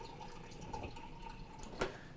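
Water from a refrigerator door dispenser trickles and drips into a glass in a quiet room, ending with a brief louder splash or clink.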